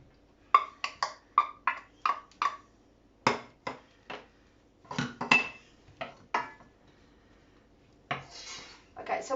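Metal utensils clink and scrape against a pan as mushrooms go into shallots in oil, a series of sharp, close taps and knocks with brief pauses between them.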